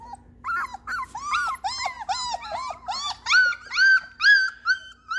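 Three-week-old Mountain Blue Doodle puppies whimpering and yipping in a rapid, high-pitched series of short whines and squeaks, close and fairly loud, rising in intensity toward the end.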